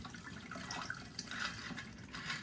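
Gin martini poured into a frosty, freezer-chilled glass, a short soft trickle of liquid running for a couple of seconds, quiet and close with no talking.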